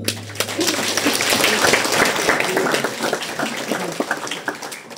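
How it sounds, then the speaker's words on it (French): Audience applause at a dinner dance, a dense wash of clapping from a crowd that swells and holds steady for several seconds, with some voices mixed in and a low hum underneath. "Nous pouvons les applaudir."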